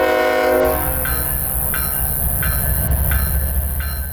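A 5,200-foot coal freight train bound for a power plant loop rolls along with a loud, steady rumble, its horn blaring in repeated blasts over the rhythmic clatter of railcars.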